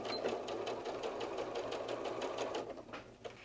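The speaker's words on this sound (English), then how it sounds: "If you're sewing with a machine that gives you the option to sew with your needle down" A sewing machine runs steadily for a few seconds, stitching orange and white fabric pieces together for a fox softie's ears, with a fast even whir of the needle.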